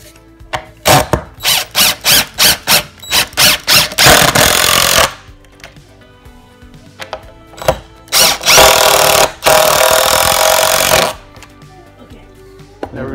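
An Intervolt impact driver drives leg bolts into pre-drilled wood while building a 700-gallon aquarium tank stand. It gives a run of short rapid hammering bursts, then two longer sustained loud runs with pauses between.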